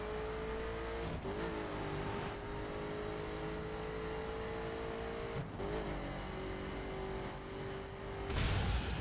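A Koenigsegg Agera R drives along Route 66 in The Crew, its engine holding a steady high drone with brief gear-change dips, loud and close, ending in a sudden louder burst.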